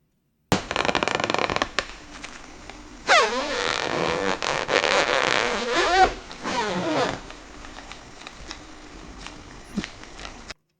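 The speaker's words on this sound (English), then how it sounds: "a zipper slowly unzipping a leather jacket" A zipper on a leather jacket being drawn slowly, with a long scratchy rasp in the middle followed by a few smaller clicks and ticks, close and fairly loud.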